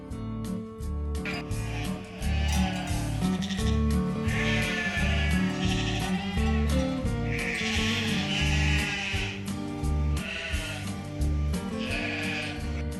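A flock of sheep bleating over and over at a shearing in Corsica, several voices overlapping loudly, with a steady rhythmic backing underneath.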